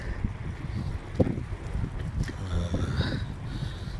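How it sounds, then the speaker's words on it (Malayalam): Strong, cold wind buffets the microphone during a bicycle ride in Bahrain, a steady low rumble with gusty swells that runs the whole time, close and fairly loud. "നല്ല കാറ്റും തണുപ്പുമുണ്ട്"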